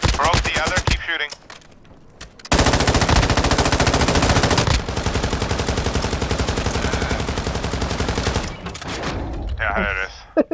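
Rapid automatic gunfire in a duos shooter video game, loud sustained bursts of machine-gun fire with brief pauses between volleys, close and dense, with a voice talking at times.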